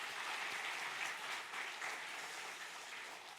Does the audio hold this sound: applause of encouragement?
yes